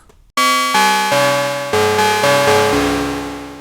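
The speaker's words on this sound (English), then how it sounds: "Typical FM style tones." Octave CAT synthesizer playing FM-style tones, VCO2 modulated by VCO1 with some release: a loud sequence of about six sustained, bright metallic notes changing pitch in steps, each entering sharply and fading slightly, with no talking.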